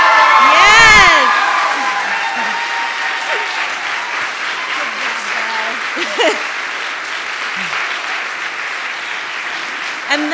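A church congregation applauds and cheers loudly, with whoops and shouts over dense clapping that swells at the start and then holds steady in a large room.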